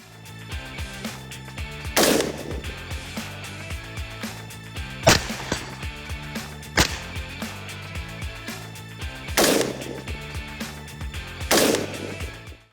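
A PSA Sabre 110 clone rifle fires at an outdoor shooting range: four sharp, loud shots spaced a couple of seconds apart over a steady background hum.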